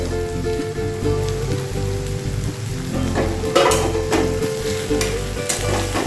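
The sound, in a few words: potatoes and cauliflower frying in oil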